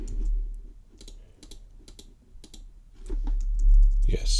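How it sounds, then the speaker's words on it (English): Steady typing on a computer keyboard, light irregular key clicks running throughout, with a voice talking over part of it. "If we try to type in right now"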